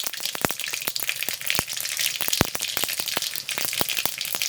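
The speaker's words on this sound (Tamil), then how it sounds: "எண்ணெய் காஞ்செடுத்து நான் அதில் கொஞ்சமாக கடுகு சேர்க்குறேன்" Mustard seeds splutter in hot oil for a tempering, a fast run of sharp, close pops and crackles over a soft frying hiss, with no one speaking.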